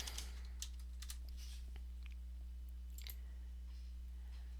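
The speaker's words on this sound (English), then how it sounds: "Let's type in the last name of Becker." Keys are tapped on a computer keyboard in a few quick bursts of sharp clicks, close and quiet over a steady electrical hum.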